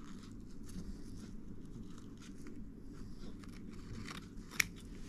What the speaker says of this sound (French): Donc là, je vais couper ma dentelle.